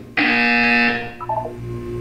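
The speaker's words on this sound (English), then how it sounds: "When you hear the buzzer, look up at the ceiling." A loud electronic buzzer from the Portal 2 video game sounds once, a harsh tonal blare lasting under a second that drops in pitch and fades into a low hum, with no talk over it.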